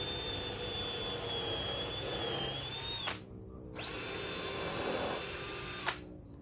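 An electric drill bores holes through a pine bench, a loud steady high whine that dips and climbs in pitch, cutting out twice briefly before spinning up again.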